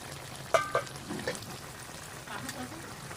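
Fish coated in mustard paste being turned in a pan, with a couple of bright utensil clinks on the metal and a low, soft sizzle, close but quiet.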